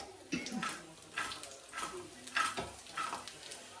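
Food being stirred and mixed in a pot on a home stove, a spoon scraping and squelching through it in uneven strokes every half second or so, faint and close, without talk.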